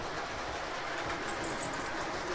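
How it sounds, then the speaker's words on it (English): An O-gauge model freight train slowing through a signal block, a steady continuous rolling rumble with a faint high squeal on top, close and even throughout. "You can see that the freight train is slowing down, so it's slowing down through the block, but it's not making a complete stop."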